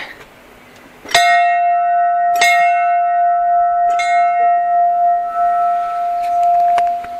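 A bell at Kaleshwar temple in Karanprayag rings out three separate times, each strike loud and close, its bright tone lingering and overlapping into a long shimmering ring.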